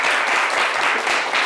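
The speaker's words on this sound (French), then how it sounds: "Venez, applaudissez pour lui" An audience breaks into a brief, dense round of applause at a live show, the clapping steady and close.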